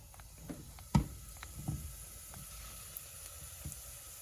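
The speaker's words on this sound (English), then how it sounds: "if you'll see here how this is sauteing in here" French eggs sauté in a pan, a quiet, faint sizzle with a soft knock and a few small pops, heard close and alone.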